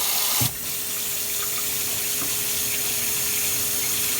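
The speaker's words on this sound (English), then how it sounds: "you can see the water's filling a little bit" Water pours into a Sky twin tub washing machine after a click, a steady, loud rushing hiss that continues evenly without pause.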